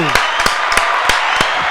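A few sharp claps ring out close and loud in a podcast studio, spaced irregularly rather than as sustained crowd applause.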